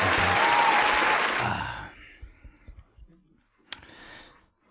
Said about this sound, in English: We're gonna put some like applause in